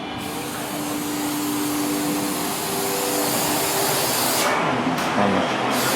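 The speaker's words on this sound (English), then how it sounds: "He's doing a little texture spray." A texture spray gun hisses in a steady, continuous spray throughout, loud and close, with a brief dip in the high hiss near the end.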